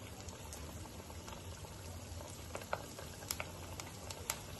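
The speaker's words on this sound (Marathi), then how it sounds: "आता याला गोल्डन ब्राऊन होईपर्यंत आपण तळूया." Koftas bubbling as they fry in hot oil until golden brown for shahi malai kofta, a quiet steady sizzle with scattered small pops and crackles, no talking.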